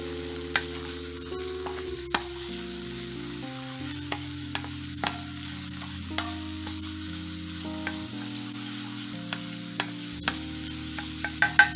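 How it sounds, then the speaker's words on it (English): Garlic sautéing in melted butter in a pan, a soft continuous sizzle broken by sharp scrapes and clicks of a utensil stirring against the pan, fairly quiet and close, with a low steady hum beneath and no talking. "we're going to go in and add our garlic. We're going to go ahead and mix that well."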